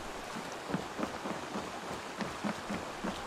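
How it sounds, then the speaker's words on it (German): Heavy rain in the video game Assassin's Creed Valhalla forms a steady, dense hiss with soft patters, while a longship sails through the downpour and low rumbles sit beneath it. "fahren wir mal im tiefsten Regen"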